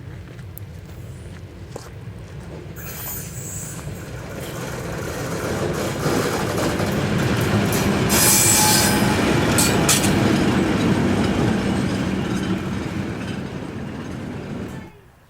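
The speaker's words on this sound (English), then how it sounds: "The train is currently shunting down the platform" An ALCO diesel locomotive rumbles steadily as it shunts along a platform, its engine swelling louder as it passes close, with faint wheel squeal and clanks before it fades.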